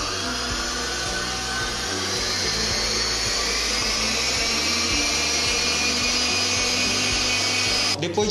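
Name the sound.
stand mixer beating cake filling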